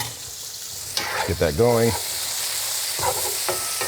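Tomatoes blister in hot olive oil in a pan, giving a steady bright sizzle throughout, while a person speaks briefly over the frying.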